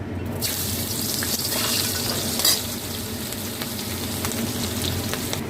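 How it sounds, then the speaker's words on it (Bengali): Onion rings cut into rings frying in oil previously used for frying fish, a steady close crackling sizzle with bubbling and occasional stirring clinks, continuous throughout with no talk. "এই মাছ ভাজার তেলেতে আমি রিং করে কাটা এই পেঁয়াজগুলো আমি হালকা করে ভেজে তুলে নেব"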